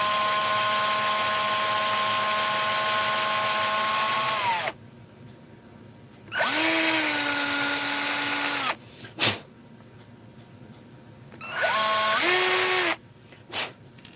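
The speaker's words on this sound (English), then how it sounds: "I'm gonna drill into this real quick." A power drill whines loudly in long bursts, spinning up and winding down three times with short pauses and small clicks between.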